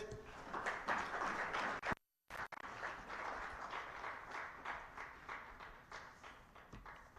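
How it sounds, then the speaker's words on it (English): Faint, distant applause rises from an audience honoring the chief guest at a World Wildlife Day conservation event. The steady clapping breaks off briefly near the start, then carries on at a low level. "Another round of applause for our chief guest."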